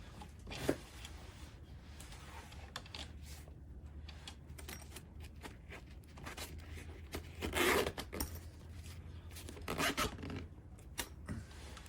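A zipper on a NEEWER X12 teleprompter cover is pulled in a few quick, close rasping strokes, with short scrapes and handling noises over a low steady hum.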